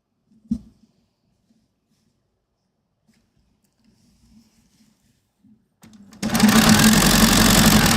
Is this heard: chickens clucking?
no